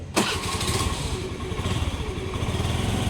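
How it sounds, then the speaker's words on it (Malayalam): A 2012 Honda Activa scooter engine catches with a sharp kick and settles into a steady, rattling idle close by. "നമുക്ക് ഈ വാഹനം ഒന്ന് സ്റ്റാർട്ടാക്കി നോക്കാം"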